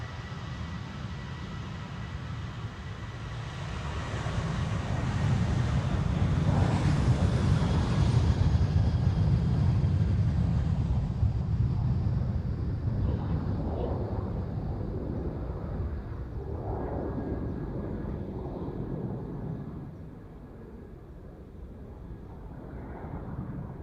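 A Cathay Pacific Airbus A350 departs from the center runway at Amsterdam Schiphol on a windy day, a broad distant jet roar that swells, holds and then slowly fades as it climbs away.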